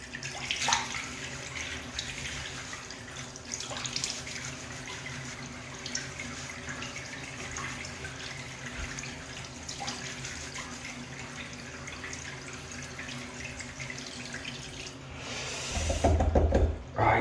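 A tap runs into a sink for wetting hair, a faint steady stream of water with a few small knocks, growing louder and splashier near the end.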